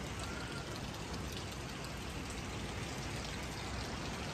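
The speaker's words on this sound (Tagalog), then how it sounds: "Pero parang hanggang mamaya pa yung ulan." Steady rain pours down without a break, a dense, even hiss of drops with no voices over it.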